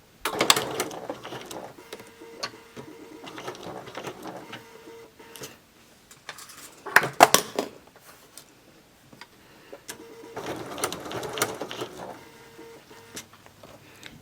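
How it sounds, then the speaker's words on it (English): A sewing machine stitches the side seams and pockets of a tiered maxi skirt at a 5/8 inch seam allowance, running in several bursts of rapid mechanical whirring separated by quiet pauses. "now we're going to sew our pockets and the sides"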